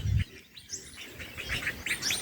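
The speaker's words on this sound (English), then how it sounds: "There's a lot of bird life in this eucalyptus tree." Several birds chirp in a tall eucalyptus tree, bright high tweets arriving in quick scattered bursts at a moderate distance, with a brief low thump at the very start and no talking.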